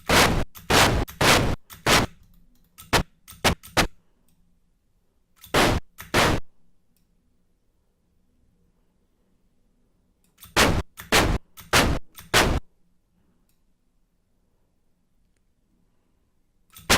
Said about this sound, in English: So let us try to make an explosion sound.